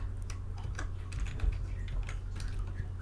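Light, rapid keystrokes on a computer keyboard as a word is entered during app design work, soft and steady over a low background hum.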